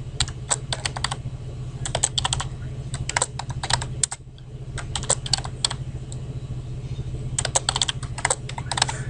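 Bursts of rapid key clicks on a computer keyboard as a password is typed, several quick runs of tapping separated by short pauses, close and clear over a steady low hum.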